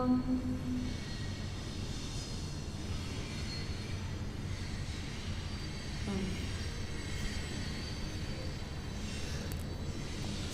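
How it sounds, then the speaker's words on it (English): Train rolling by across a river, a steady faint rumble with occasional wheel squeal, heard from a distance in a quiet outdoor setting. "the train goes on just across the river"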